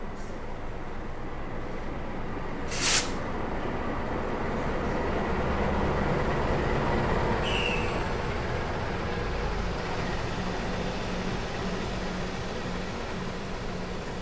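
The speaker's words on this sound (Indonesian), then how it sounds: "Yang akan segera masuk kereta Taksaka Siang ya, teman-teman." A Taksaka passenger train rolls into a station with a steady, broad rumble that holds for the whole stretch, and a sharp horn or whistle blast cuts through near the start, followed by a fainter tone later.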